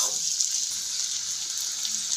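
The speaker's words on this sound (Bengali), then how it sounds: "এখন দিয়ে দিচ্ছি মিক্সির বাটি ধোয়া জলটা।" Rinse water from a mixer jar is poured into a hot pan of spiced potatoes, giving a steady, even hissing sizzle that holds throughout at moderate loudness.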